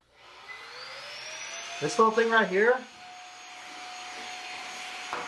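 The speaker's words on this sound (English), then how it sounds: "this Fantic vacuum cleaner, works really well for this" A Fantic vacuum cleaner runs on its low setting with a steady, fairly quiet whine that holds throughout, while a person briefly speaks over it partway through.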